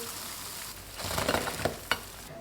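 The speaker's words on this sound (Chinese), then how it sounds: "全程小火慢炸，不断的翻面，炸至两边都呈这样的金黄色" Small egg-and-flour dough snacks slowly frying in oil over low heat as they are turned, a soft continuous sizzle with a few utensil clicks, close and quiet.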